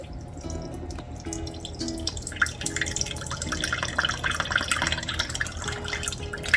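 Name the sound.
evaporated milk poured into sweetened condensed milk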